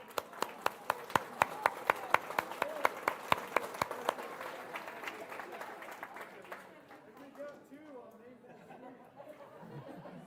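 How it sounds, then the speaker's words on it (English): An audience at an evening assembly claps for a winning team, with crisp, distinct claps in a steady patter at first that fade into murmuring chatter and low voices. "Give them a round of applause."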